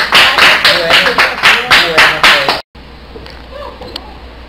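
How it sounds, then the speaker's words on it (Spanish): An audience at a televised literary program applauds a historian with a couple of seconds of loud, pulsing clapping. The applause cuts off abruptly to a quiet room. "Un aplauso para nuestra historiadora."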